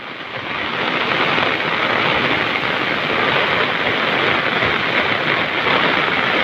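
Loud, steady roar of a river in flood rushing through Naya Gaon village, a dense continuous wash with no pauses and no voices.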